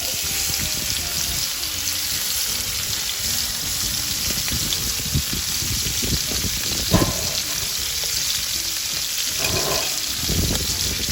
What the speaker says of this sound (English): We'll be able to sear our scallops, and they will be completely out of this world.